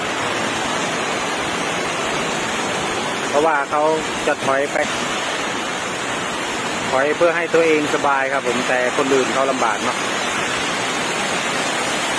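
Water gushes down a drainage pipe during heavy rain and strong wind, a steady broadband rushing roar that runs throughout while someone talks over it in the middle stretch.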